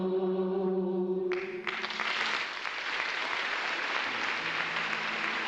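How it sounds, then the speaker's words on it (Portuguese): A church congregation breaks into broad, steady applause during a festive Mass, the clapping starting abruptly after a sustained sung or organ chord and continuing as a dense wash. "É festa, aplauda para valer"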